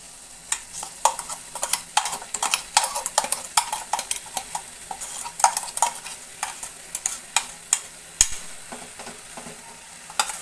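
A ground paste is poured into a cooking cucumber curry and stirred, giving a close run of irregular scraping and clinking stir strokes over a faint, steady sizzle.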